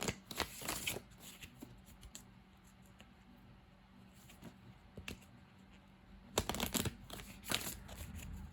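Antique Anatomy Tarot cards shuffled and handled close up, with bursts of riffling and flicking at the start and again near the end, and softer sliding and tapping between them.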